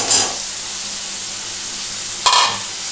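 Fish roe being stirred into a cooked-down masala in a hot pan, giving two short bursts of scraping and sizzle at the start and near the end over a steady low frying hiss.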